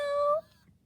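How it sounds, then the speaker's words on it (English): A Metacat Version 2.0 robotic pet cat gives one short electronic meow, a bright tone that slides slightly upward and ends abruptly, followed by quiet background. "Metacat will meow"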